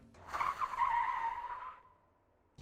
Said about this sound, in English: oh yeah, plenty of handbrake turn practice